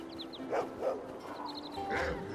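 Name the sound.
dog barking in the video game Neverwinter Nights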